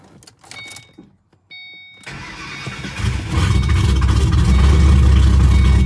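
Rebuilt 2006 Ford Mustang GT V8 engine: a few faint clicks, then cranking that catches and swells into a loud, rough, steady roar, close by with no talking.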